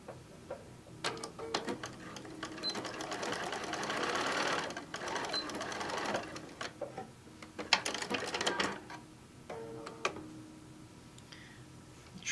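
A serger runs in several short bursts while stitching an apron panel, its busy ticking whir rising and falling between pauses, with faint handling sounds in the gaps.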